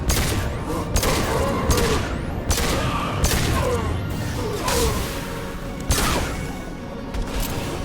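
Assault rifle fire in Mass Effect 2, loud and close, comes in short repeated bursts with crackling impacts and whooshing effects over steady game noise.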